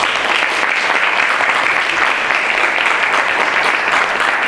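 Loud, dense applause fills a Korean youth forum event hall, with a large audience clapping steadily and continuously throughout.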